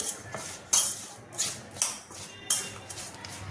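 A spoon stirs garmar roots with turmeric and salt in a bowl, giving repeated scraping clinks at an uneven rhythm, close and moderately loud, with no talking.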